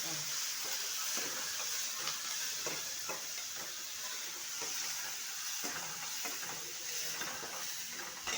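Onions and dried fish sizzle in a hot pan with a constant hiss, broken by repeated scraping taps as they are stirred.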